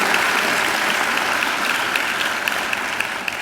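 Dense, sustained applause from a graduation ceremony audience at Macquarie University, loud and continuous with no talking.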